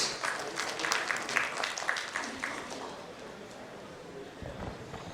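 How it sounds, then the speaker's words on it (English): Applause welcoming a speaker onto the stage at a CIO conference and awards event, brisk clapping that swells early, then thins and fades into quieter room noise with a few scattered claps. "With a huge round of applause, ladies and gentlemen, please welcome Dr. Rabi Padhy on the stage"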